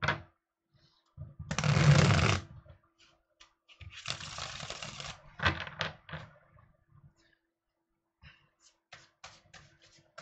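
Tarot cards being drawn and shuffled, with a longer burst of riffling and sliding followed by several shorter card flicks and taps, close and moderately loud, with no talking.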